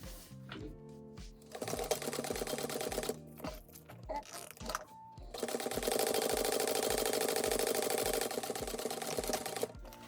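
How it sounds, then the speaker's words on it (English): Sewing machine stitching zipper tape along the seam allowance of a handbag, running in rapid mechanical bursts that start and stop, with a longer steady run near the end. "And then we're going to sew this at the seam allowance it tells you to."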